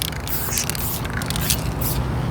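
A steady hissing mist of lime green spray paint runs without pause, with faint scraping and crackling mixed in, close by and fairly loud.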